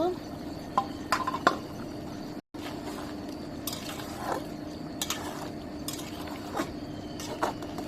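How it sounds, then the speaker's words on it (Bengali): Goose meat curry stirred in a pot, with intermittent metallic clinks and scrapes of a spoon against the pan over a low steady background, one short dropout partway through. "আবার একটু লাড়া দিয়ে দিব"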